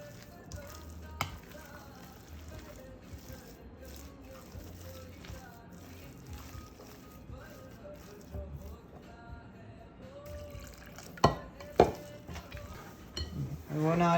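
Accra, saltfish fritter batter, frying in hot oil, a steady low sizzle with a few sharp clinks of utensils near the end, and a voice talking at times.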